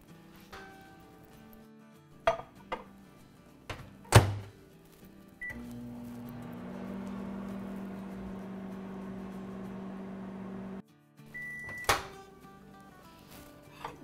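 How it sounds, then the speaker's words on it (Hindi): A microwave oven heats chocolate in a steady hum that runs for about five seconds, framed by door clicks and beeps before and after. "अब हम इसे माइक्रोवेव में रखेंगे 30 सेकंड के लिए।"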